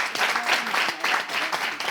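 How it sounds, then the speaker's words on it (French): A studio audience on a television talent show claps steadily, the applause dense and fairly close throughout, with a few brief voices mixed in. "Je veux qu'on applaudisse le talent."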